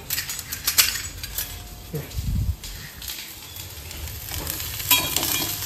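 A spoon stirs food in a cooking pot, giving metallic scrapes and clinks against the pan with a soft sizzle underneath, while a person talks nearby.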